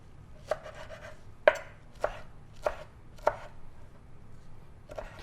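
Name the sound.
knife chopping cilantro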